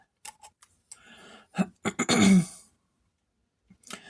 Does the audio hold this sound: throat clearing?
yes